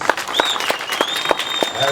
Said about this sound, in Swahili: Tuwapigie makofi basi.